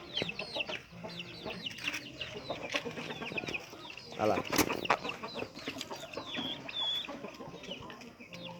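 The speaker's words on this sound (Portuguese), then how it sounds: "Esse é meu galo velho que tava aí dentro, junto com os outros." An old rooster that is molting clucks and calls repeatedly among the farm hens and other chickens, fairly close, while a person speaks briefly over the birds.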